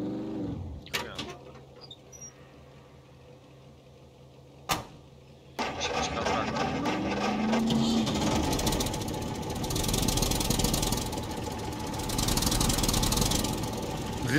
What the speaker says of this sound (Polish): to ja traktorem podjeżdżam.